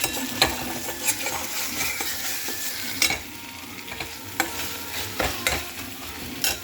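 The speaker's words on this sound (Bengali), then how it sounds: "আর এদিকে আমি ঘিয়ের মধ্যে বড়িটা ভেজে নিচ্ছি।" Bori lentil dumplings frying in ghee in a pan, a gentle continuous sizzle broken by periodic scraping and clinking strokes of a spoon, moderately quiet and close, with no voices.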